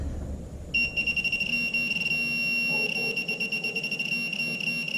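A steady electronic ferrous-target tone from a Minelab Pro-Find 35 or Garrett Pro-Pointer AT pinpointer with a fast, pulsing beep rate, sounding alone and fairly close, with faint background noise underneath.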